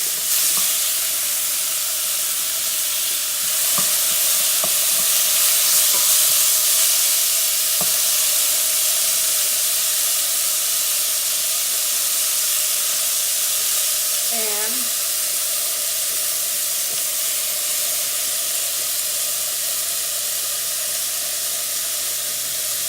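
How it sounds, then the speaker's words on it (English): Tomatoes hit a hot pot for barley soup with a steady, broad sizzle and hiss that holds throughout, joined by occasional faint clinks and brief stirring sounds. "So in goes the tomatoes."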